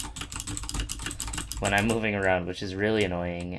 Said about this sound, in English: I noticed that my keyboard sounds a bit like this